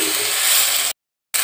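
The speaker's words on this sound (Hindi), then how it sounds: "इसको अच्छी तरह से भून लेंगे।" Ginger and green onion fry in a hot pan over a raised flame, giving a steady, loud sizzle that cuts off abruptly into silence, then briefly resumes.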